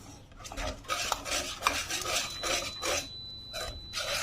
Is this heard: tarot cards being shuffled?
no